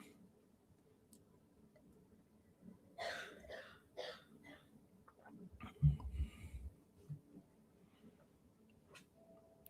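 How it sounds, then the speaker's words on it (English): A child coughs a few times in the background, faint and somewhat distant, with a low thump and soft ticking in an otherwise quiet room. "Hear my son coughing in the background"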